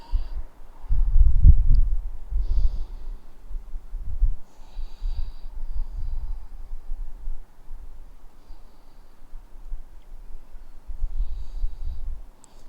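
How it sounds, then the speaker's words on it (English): Slow, deep breaths during a seated forward fold stretch in a hip and leg stretching class, soft close inhales and exhales spaced several seconds apart in a quiet room. "Take 2 more deep breaths here."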